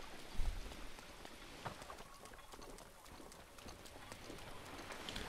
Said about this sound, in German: Weil auf Nachtstellen kann ich ja wieder mal nicht, weil es wieder mal regnet.